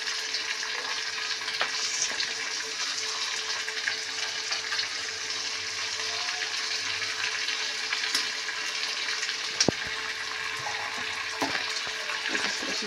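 Pangas fish fries in oil with onions added over it, giving a dense, even sizzle up close, with a few faint clicks of a utensil and no voices.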